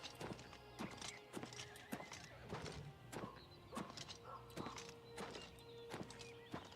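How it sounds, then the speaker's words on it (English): Horse hooves clip-clop steadily through a scene in the video game Oblivion Remastered, with neighs and whinnies breaking in at intervals over a low ambient bed. "I am hearing a horse somewhere"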